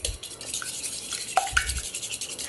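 A coconut milk and egg mixture is whisked by hand in a bowl, giving soft wet swishing strokes and a few light taps against the side, quiet and close, with no voices.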